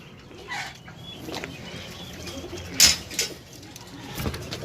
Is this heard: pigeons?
yes